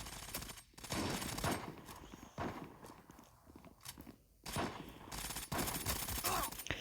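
Gunfire rattles in the mobile shooter Zula Mobile, dense bursts of shots in several loud, close clusters separated by brief lulls.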